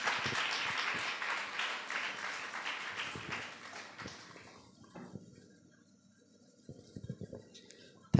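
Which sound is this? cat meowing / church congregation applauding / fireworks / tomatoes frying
church congregation applauding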